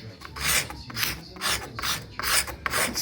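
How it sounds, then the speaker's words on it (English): A hand scraper drags repeatedly across paint softened by stripper, about five rough, rasping strokes in a steady rhythm, close and fairly loud with brief pauses between passes. "you get this little one in, you can hear it scrape"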